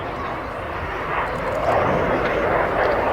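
A de Havilland Sea Vixen jet roars steadily overhead at an airshow, a broad, sustained engine rumble that swells slightly louder toward the end of the pass.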